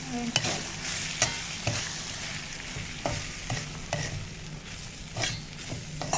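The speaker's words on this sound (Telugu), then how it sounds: "ఇప్పుడు రవ్వ వేసుకొని కొంచెం బాగా వేయించుకోవాలి." Semolina (rava) is stirred and fried in a pan for upma, with a soft continuous sizzle under repeated scraping strokes of a spoon against the pan, close and steady.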